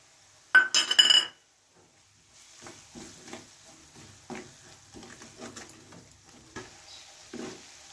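Spoon stirring a crushed peanut and sesame mixture in a pan while cooking dum aloo: a bright clink of metal at the start, then soft, uneven scraping and rustling strokes that continue quietly.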